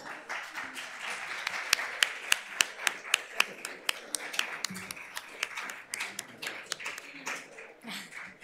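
Seminar attendees applaud the speakers as they receive book packages, a continuous wash of clapping with several sharp, distinct claps from nearby hands standing out, lasting several seconds.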